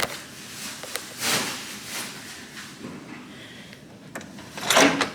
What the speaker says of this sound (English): I just propped the door.